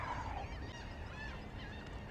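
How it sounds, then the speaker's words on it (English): Seagulls on land give a few honking, squawking calls over a muffled outdoor rumble, with brief cries at moderate distance and no speech. "The seagulls are having a great time on land."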